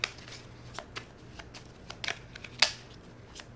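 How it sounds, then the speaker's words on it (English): Tarot cards shuffled by hand in a series of soft riffling bursts and sharper snaps, close and fairly quiet, with no talk. "why are you making me shuffle so much?"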